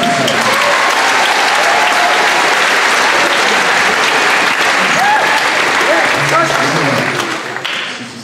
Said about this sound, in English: So how about a round of applause for the amazing percussion section?